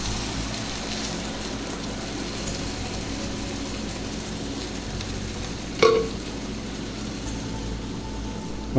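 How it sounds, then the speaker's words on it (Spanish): Salsa cooks in a pan with softened onion, giving off a continuous loud sizzle and hiss, with one sharp clatter partway through. "Ya que citronó un poco la cebolla, agregamos la salsa"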